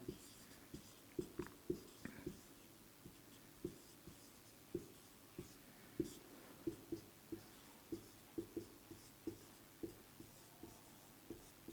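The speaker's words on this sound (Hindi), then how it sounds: "अब मैं इसको लिखता हूं" Chalk or pen writing on a board during a maths lecture, giving a steady series of soft, irregular taps and short strokes over a faint background hiss, close and quiet with no talk.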